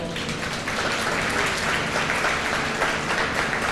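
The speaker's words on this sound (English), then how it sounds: "Give him a round of applause." A luncheon audience applauds steadily and loudly for the whole stretch, a dense wash of many hands clapping with faint voices mixed in.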